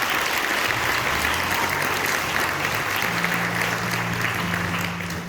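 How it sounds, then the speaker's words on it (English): An audience at a high school end-of-year concert band performance applauds a flute player, a dense, steady wash of clapping that fades slightly at the end. "we're gonna clap for every single one of them because they deserve it"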